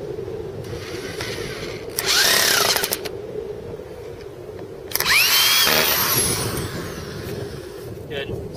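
Power drill driving a bit into wood while building a rail trainer, two whirring bursts of a few seconds each over steady background noise.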